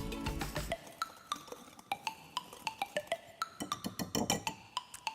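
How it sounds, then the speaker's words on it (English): A whisk tapping and clinking rapidly against a bowl while mixing baking soda, salt, baking powder and white sugar, a quick run of bright, evenly spaced metallic ticks up close. "we'll just give that a quick whisk to combine"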